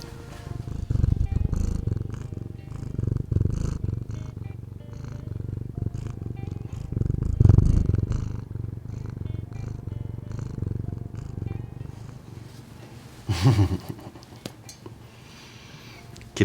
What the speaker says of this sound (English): She's purring. Can you hear it?